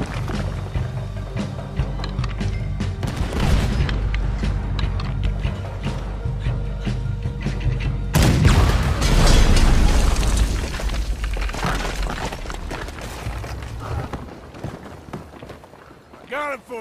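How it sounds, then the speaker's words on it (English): Heavy cannon blasts boom during a fort battle in Red Dead Redemption 2, deep thuds and crashing debris repeating amid gunfire and commotion, with voices talking over the action. "You need to get that cannon out there."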